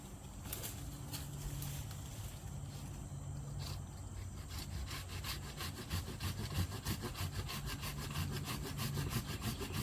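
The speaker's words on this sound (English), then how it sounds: "Sometimes you have to utilize other tools such as a hacksaw" A hacksaw cuts through a standing tree trunk outdoors with fast, rhythmic back-and-forth rasping strokes that continue steadily throughout. Faint birdsong sits in the background.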